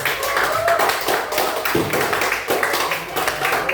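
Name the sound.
classroom clapping for a group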